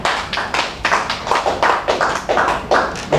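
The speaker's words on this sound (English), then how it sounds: "a round of applause, please" Audience clapping at a media parley on the eNaira, a close, rhythmic burst of taps that sounds like a few pairs of hands rather than a large crowd, with no talk over it.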